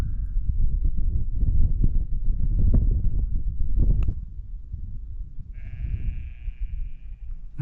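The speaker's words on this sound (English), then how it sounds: "Just hear the sheep." Sheep bleat in the open countryside, a drawn-out cry rising clearly near the end over gusting wind noise and rustling footsteps, with no one speaking.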